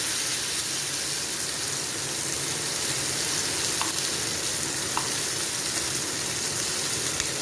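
Wide pieces of avoli (pomfret) fish fry in hot oil, giving a dense, steady sizzle that stays loud and unbroken, with a couple of faint clicks and no talking.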